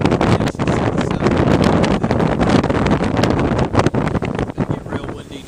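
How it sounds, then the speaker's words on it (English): Strong wind on an open hillside buffets the microphone in loud, rough gusts. The roar swells and dips unevenly throughout and eases slightly near the end. "It's going to get real windy now."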